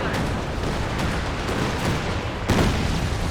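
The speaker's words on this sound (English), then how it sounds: "Barrage into the base." Artillery barrage from a Katyusha pounding a base in the World War II strategy game Company of Heroes 2, a steady dense rumble of impacts and booms with a heavier hit near the end.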